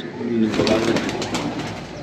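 A pigeon coos softly nearby while a person talks over it, with some rustling handling noise.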